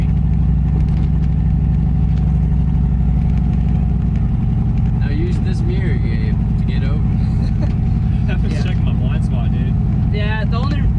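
1972 Chevy C10 Custom pickup with a strong-running engine pulls steadily in second gear, a loud low drone filling the cabin while people talk over it.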